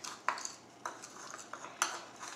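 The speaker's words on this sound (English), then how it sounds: "Just keep mixing it for a little bit." A utensil stirs cookie dough in a small bowl for an Easy Bake Ultimate Oven, giving a few distinct clinks and scrapes against the bowl at irregular intervals, close and fairly quiet.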